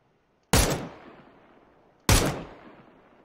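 Two loud, sharp gunshots from PUBG, spaced about a second and a half apart, each trailing off in a long echoing decay with no voices.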